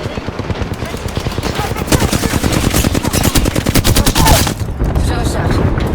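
Rapid automatic gunfire in a video game, loud and continuous for several seconds, with a brief pause and quieter shots near the end.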